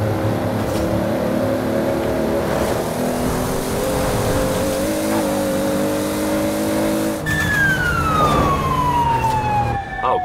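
Police car siren in the racing game Forza Horizon 4 on English roads during a top speed run, a loud rising and falling wail over a constant roaring engine, with the siren pitch shifting sharply partway through as it passes.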